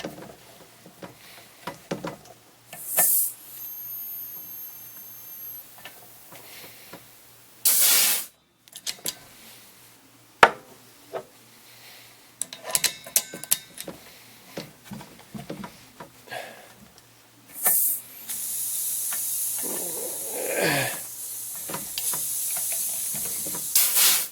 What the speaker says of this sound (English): That big noise is the bleeder blowing the air through the, into the bucket